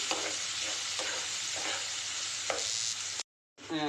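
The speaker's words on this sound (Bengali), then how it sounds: "এখন পেঁয়াজগুলো ভালো করে ভেজে নিচ্ছি" Onions fry in a pan with a continuous close sizzle, and a few light stirring scrapes sound through it. The sound stops abruptly near the end, then briefly resumes.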